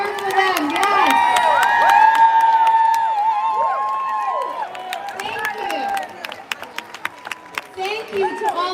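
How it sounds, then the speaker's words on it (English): A crowd at a state capitol rally cheers and whoops loudly, with shouts and whistles rising together, then thins into scattered claps and calls as a voice speaks through amplification. "Yes, cheer for them."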